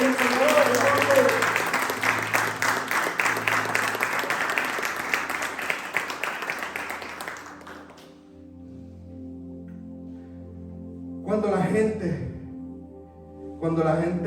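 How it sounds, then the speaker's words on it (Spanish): Applause from a crowd for several seconds, fading out midway, followed by quieter sounds and a couple of brief voices. "Dar un aplauso a Reyes y Señores."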